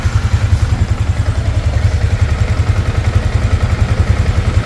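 A Yamaha Sniper 155 motorcycle engine runs close up during a radiator install, a loud steady idle with an even pulsing beat and a light mechanical clatter.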